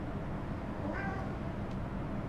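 A cat meows faintly at mid-distance, one short call near the middle over a steady low background hum, with no talking.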